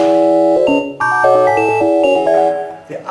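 German speech rendered as an instrumented MIDI file plays as a loud run of short, synthetic pitched notes that follow the rhythm and contour of speech in choppy phrases, with no actual voice.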